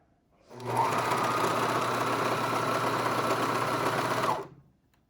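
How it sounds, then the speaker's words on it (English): A sewing machine runs in one continuous burst of about four seconds, a close, even mechanical whir while stitching stretched elastic onto a knit waistband, with silence before and after. "After I stretch, I'll hold halfway in so it's easier for me to sew."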